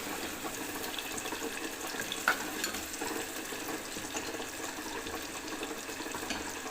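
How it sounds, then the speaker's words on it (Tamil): Onions frying in a pan for an egg curry give a steady, dense hiss and crackle that runs unbroken throughout, close and fairly loud with no talking. "இப்போ பாருங்கள் வெங்காயம் நல்லா பொரிஞ்சிக்கிட்டுருக்கு"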